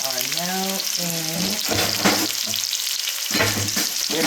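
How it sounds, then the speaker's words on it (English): Sliced tiny potatoes frying in garlic and oil give a steady, close sizzle, with a few brief tonal squeaks and stirring noises breaking through the hiss. "now in garlic and oil. So I'm gonna cook them down a little bit"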